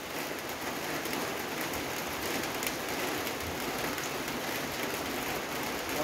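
Steady rain falls outdoors around a rural Thai home kitchen, an even, dense hiss of drops on surfaces that continues unbroken throughout, with no talking.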